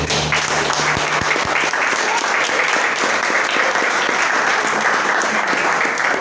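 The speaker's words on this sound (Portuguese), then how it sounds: "Aplauda o Senhor por essa palavra aqui." A church congregation breaks into loud, dense applause that continues without letup, a sustained roar of clapping from a large crowd.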